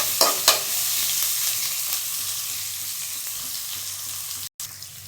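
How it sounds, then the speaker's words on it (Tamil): Onions and a green chili fry in oil in a pan, a loud, continuous hiss close by, with a couple of spoon knocks at the start and a brief break near the end. "வெங்காயம் கொஞ்சம் நல்லா வதங்கட்டும்"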